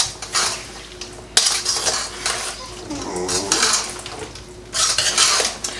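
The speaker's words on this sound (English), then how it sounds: "Let's stir it up" Fermented corn and black bean relish with cumin gets stirred in a bowl, a loud close clatter of a utensil scraping and knocking against the sides in irregular bursts, with no speech.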